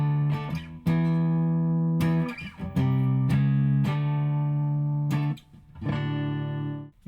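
A Squier Paranormal Stratosonic electric guitar on the neck pickup plays through a Hughes & Kettner Tubemeister 20 tube amp into a V30 speaker, with pedals: clean, ringing notes and chords struck one after another, each sustaining and decaying, close and loud.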